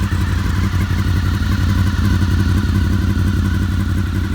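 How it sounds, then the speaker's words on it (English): The engine of a restomod Berkeley car with an unfinished Two Brothers exhaust idles loud and close, a steady, throbbing low rumble with a rattly edge and no voices over it. "She's got a Two Brothers exhaust, which is not yet complete."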